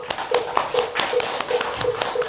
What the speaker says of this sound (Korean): 주지스님께 다시 한번 큰 박수 보내주시기 바랍니다